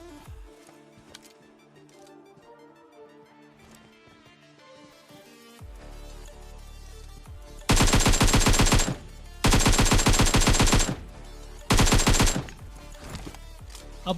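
Automatic gunfire in the battle-royale game PUBG Mobile, with quiet game sounds at first and then three loud sustained bursts of rapid machine-gun fire, each lasting one to two seconds, separated by short pauses.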